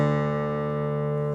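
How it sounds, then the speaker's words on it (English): The lowest guitar string, tuned down a full tone to D, rings as a single steady sustained low note that is cut off abruptly at the end, close and alone. "you take your lowest string and drop it down a full tone to D instead of E"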